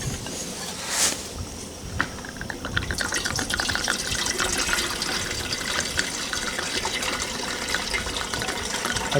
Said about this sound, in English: Let me fill the water first.